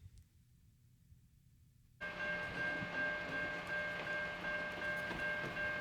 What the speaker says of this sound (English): send you off with a nice eastbound intermodal train